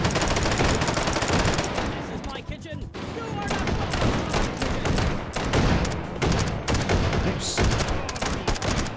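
Rifle shots in the VR shooter Hot Dogs, Horseshoes & Hand Grenades crack repeatedly over a dense, loud mix of battle noise, with overlapping fire and voices throughout.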